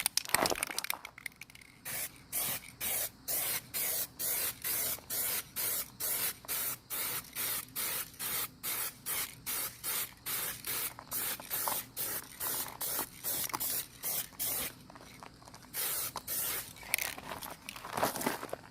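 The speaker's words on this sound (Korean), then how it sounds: "바로 2차 도장 들어가도록 할게요" Spray gun laying a second coat of paint on a car bumper during a partial DIY repaint of a Hyundai Equus lower GQ section, heard as a rapid series of short, loud hissing bursts in steady rhythm, close up and with no talk.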